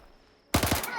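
An APB pistol fires in the S.T.A.L.K.E.R. video game: after near silence, a sudden sharp shot bursts out, followed by quick echoing reports that trail off.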